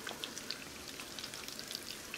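Cheesy potato patties made from leftover mashed potatoes frying in hot oil, a dense crackle of sharp spits and pops, close and steady, with no talking.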